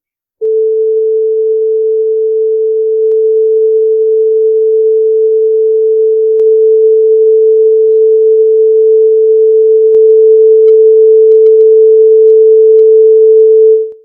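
A single loud, unwavering pure sine wave tone at 100% volume sustains for roughly fourteen seconds, with only a few faint clicks along the way, then stops.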